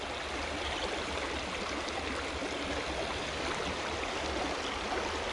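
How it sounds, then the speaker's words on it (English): A strong current in a stream, heard while wading through the water during treasure hunting, roars as a steady close rush of broadband water noise with no talk. "the water current is strong here"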